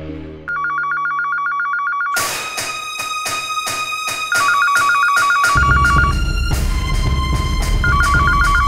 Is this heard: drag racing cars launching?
no